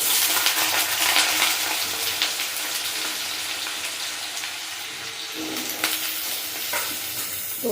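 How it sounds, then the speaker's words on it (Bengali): Potato pieces with black cumin seeds frying in hot oil, a loud close sizzle with bursts of crackle as pieces drop in, and no voices. "তো তেল হয়ে গেছে, হাফ চামচের কম আমি কালো জিরা দেব। এবার আলুগুলো আমি এক এক করে দিয়ে দেব।"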